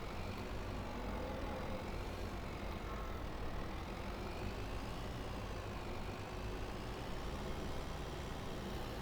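A steady, low engine rumble comes from a farm tractor crawling slowly in first gear while moving cows between paddocks; the drone holds constant throughout with no voices.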